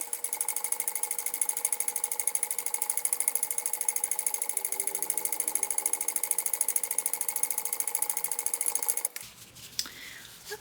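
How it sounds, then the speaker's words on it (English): A sewing machine back-stitches a crossbody bag, giving a steady, rapid mechanical chatter that runs evenly for about nine seconds and then stops, leaving faint handling noise. "I am going to back stitch."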